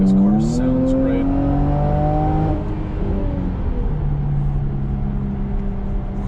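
Jaguar F-Pace S supercharged engine revving, a rising harmonic tone with supercharger whine that climbs, holds, then settles back, loud and close inside the car.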